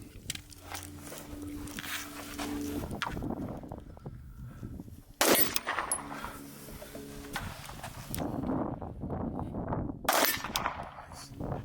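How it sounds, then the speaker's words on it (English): Gunshots at an outdoor shooting range: two sharp, loud reports spaced several seconds apart, standing out over steady background noise and faint voices. "All right, 2 shots."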